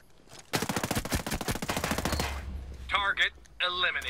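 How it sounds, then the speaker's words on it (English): Rapid automatic gunfire from a machine gun in the Ghost Recon Breakpoint video game rattles out in a dense burst of about two seconds, followed by a quieter pause and short electronic game sounds. "I hear gunfire."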